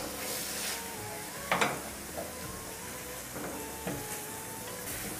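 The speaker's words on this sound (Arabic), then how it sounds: "نقلب كله مع بعض." Onions with black pepper and salt frying in a pan while being stirred, a continuous soft sizzle with a few sharp scraping clacks of the utensil, no talking.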